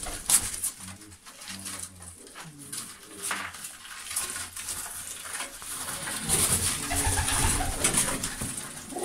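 Pigeons kept by a pigeon fancier coo steadily at close range, low repeated throaty notes under ongoing outdoor background noise.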